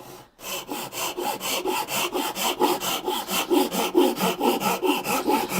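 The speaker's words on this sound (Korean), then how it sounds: "이렇게 맞춰놓고 또 톱질을 하는 거죠" A hand saw cuts a wooden tenon for a joinery furniture joint in quick, even back-and-forth strokes, close and rhythmic, with no talking.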